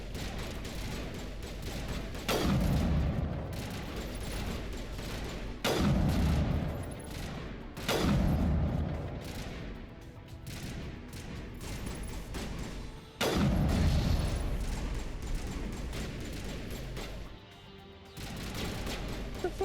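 Gunfire in the video game Mass Effect, several heavy bursts of shots and booms arriving in separate waves, loud and close, each decaying into a rumbling tail.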